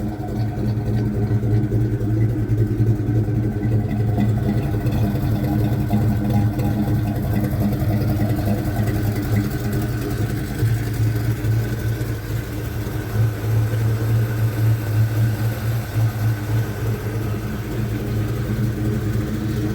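A 1984 Chevy C10 truck engine runs at a steady, close idle, a loud and even mid-pitched drone with a constant hum that barely changes throughout.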